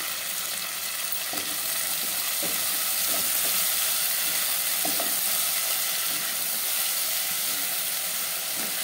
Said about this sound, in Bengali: এইখানে আমি একটু ভাজা ভাজা করে নিচ্ছি সবজিগুলো